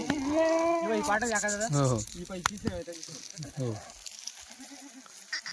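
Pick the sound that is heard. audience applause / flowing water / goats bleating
goats bleating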